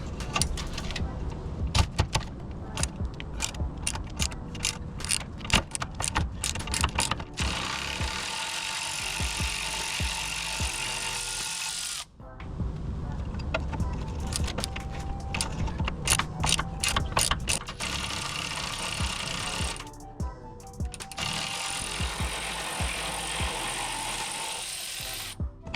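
Mechanical ratcheting and clattering from work on a 2008 Honda CR-V control arm while 17mm nuts and a bolt are removed, with dense, repeated clicks and metallic rattles that continue for most of the clip and pause briefly midway.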